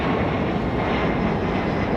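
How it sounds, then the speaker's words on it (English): A Delta Airbus A220 jet roars on departure from Raleigh Durham airport, a loud steady broadband engine rush that fills everything evenly without pause. "Delta A220 getting a move on. I always love the Delta A220's departures."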